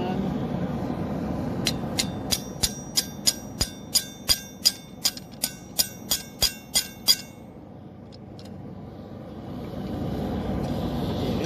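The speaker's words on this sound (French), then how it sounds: "on va essayer de repuncher les yeux pour les écraser jusqu'au fond ici" A steel round punch is struck repeatedly with a hammer to form eyes in a forged Halloween devil sculpture, about twenty bright, ringing metallic blows at a steady, quickening rhythm, close and loud, then a pause with a faint clink.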